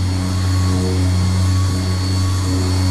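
Loud, steady mechanical drone of a vacuum extractor motor running continuously with a constant low hum and no pauses.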